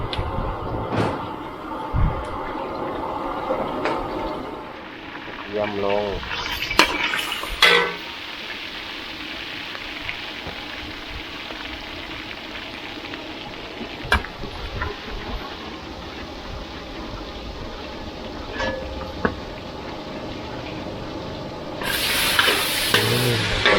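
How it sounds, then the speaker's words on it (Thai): Glass noodles being stir-fried in a pan with egg and pork, giving a steady low sizzle with intermittent scraping and clattering of the spatula, and a few sharper knocks at intervals. "ลงไปแล้วครับ ผัดวุ้นเส้นอย่างง่าย"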